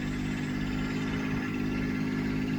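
A cold-started 1992 Mercedes 600SEL engine idles close by with a steady, even hum and slight vibration, running alone for a few seconds.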